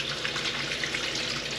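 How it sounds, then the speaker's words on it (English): Hands are rinsed under running tap water, heard as a steady, close hiss of flowing water with gentle splashing and no talk. "And I wash my hands just a little bit after I'm done."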